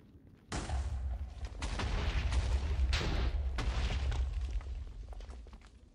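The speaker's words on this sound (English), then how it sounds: "use the rest of this TNT to just blow up this section right here" A Minecraft TNT explosion erupts suddenly from near silence into a loud, sustained blast with crackling bursts and deep rumble, followed by further booming detonations that slowly fade toward the end.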